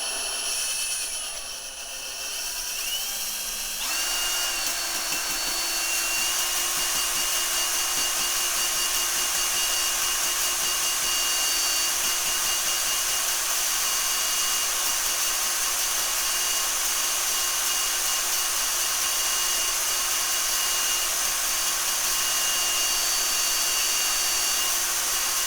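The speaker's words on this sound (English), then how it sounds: "after one round of the drill, it actually looks a lot better" An electric drill spins an oiled valve stem to lap an engine valve against its seat, a steady whirring grind that runs continuously up close after a brief quieter start.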